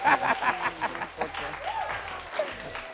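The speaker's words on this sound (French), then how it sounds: "On peut applaudir pour lui, s'il vous plaît." Audience applause during a French television talk show, a burst of clapping with some crowd chatter and light laughter mixed in, fairly distant and steady throughout.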